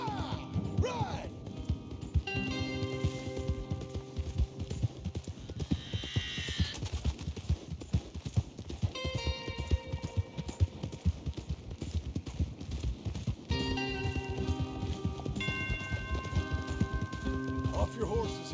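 Horse hooves clip-clop in a quick galloping rhythm in the video game Red Dead Redemption 2, loud and close, with game music and voices talking over them throughout.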